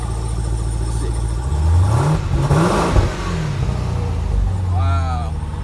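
A 2018 Jeep Trackhawk's 707-horsepower engine revs up hard, its roar swelling and falling back, with voices speaking over it.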